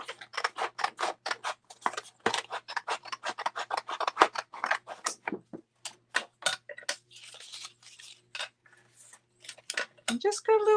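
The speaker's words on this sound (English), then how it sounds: "And just cut little squares." Scissors snip paper into small squares, a close, rapid run of crisp cuts in quick rhythm that pauses and resumes, with faint talk nearby.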